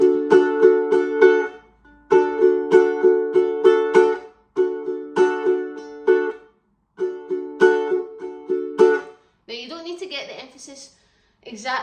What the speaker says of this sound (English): And then we are going to strum along to the claps with the same rhythm.